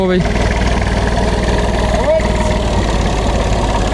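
A Massey Ferguson 340 tractor engine rumbles loudly and steadily at close range, with a voice talking over it.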